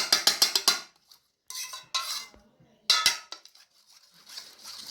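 A spoon stirs curd and gram flour paste in a bowl, giving quick clinking scrapes at first, then a few separate bursts of stirring with quiet gaps between them.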